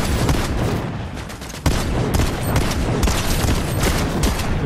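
Rapid gunfire from automated turrets in Fortnite, a dense continuous rattle of shots with a sharp burst near the middle, loud and close, with no talk.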